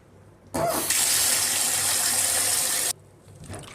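Soaked chana dal is rinsed under running water. A loud, steady rush of tap water starts suddenly, pours for about two seconds, then cuts off, leaving a faint background.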